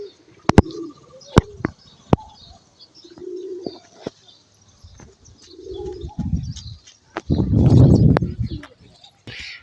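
Low, throaty coos from pigeons on a rooftop come in a few separate bursts, punctuated by sharp clicks and a louder stretch of flapping or rustling near the end, all close and with no talking.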